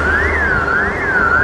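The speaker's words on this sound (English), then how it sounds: "That alarm is just going off." A building alarm wails continuously on a dark street at night, a steady rising-and-falling electronic siren, loud and persistent, with no talking.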